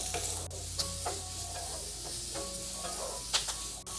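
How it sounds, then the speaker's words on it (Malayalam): Beetroot stir-fried over a high flame gives a steady, close sizzle with scattered stirring scrapes and clinks of the spatula against the pan, and no one speaks. "ഏകദേശം ഒരു 30 സെക്കൻഡ് മാത്രം ഹൈ ഫ്ലെയിമിൽ വെച്ചിട്ടൊന്ന് വഴറ്റി കൊടുത്താൽ മതിയാവും"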